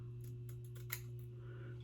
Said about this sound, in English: I'm gonna use the smaller scissors